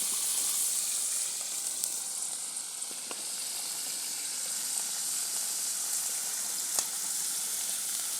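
Potatoes frying in hot oil for dum aloo make a steady, close hiss and sizzle throughout, with a few faint clicks and no one speaking.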